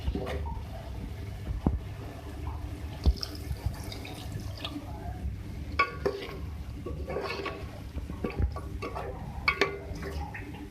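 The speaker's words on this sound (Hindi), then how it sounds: "अब मैं इसमें वाटर ऐड करूँगी, ठीक है, इसको मज़ीद गलाने के लिए।" Water poured into a pan of chicken curry cooking on the stove gives soft close splashes and a few scattered drips, quiet and irregular, with no voice.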